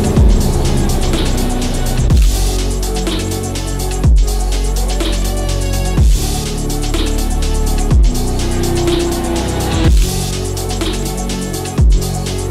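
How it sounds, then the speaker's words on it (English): Race cars speed past on a motorsport track, one after another roughly every two seconds, each a loud close roar that swells and drops in pitch as it passes. "we're standing next to speeding cars"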